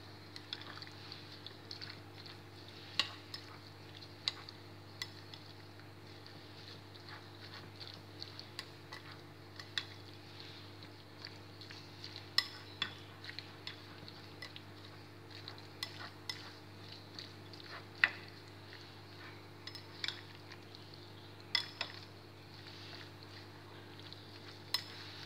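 A spoon stirs pork marinade seasoned with three spoonfuls of fish sauce in a bowl, producing faint, irregular clicks and taps against the dish over a quiet background hum.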